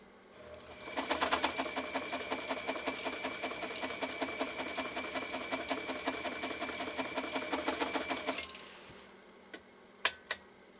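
A Japanese 1.3 amp Elgin 2468 sewing machine stitches fast and close with an even rapid mechanical clatter for about seven seconds, then stops, followed by a few sharp clicks.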